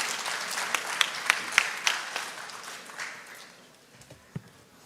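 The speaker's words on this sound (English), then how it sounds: "The applause should be more." Audience applause at an International Women's Day event at IIT Kharagpur, a dense burst of clapping with a few sharp louder claps early on, gradually thinning and fading toward the end.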